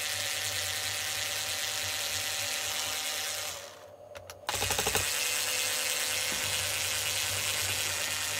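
A powered driver whirs steadily as it backs Phillips screws out of an ebike battery pack. The buzzing cuts out briefly, then resumes with a few clicks and keeps running close and continuous.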